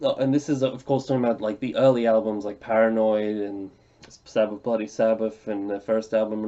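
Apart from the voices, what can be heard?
None of the usual background noises is heard.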